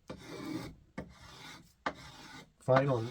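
A spokeshave fitted with a new sole shaves wood in three steady rasping strokes with short pauses between them, close and clear. A voice starts speaking at the very end.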